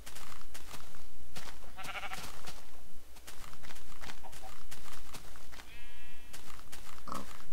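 Several Minecraft sheep bleat in short bursts over a constant background hum and scattered clicks, the bleats repeating every few seconds.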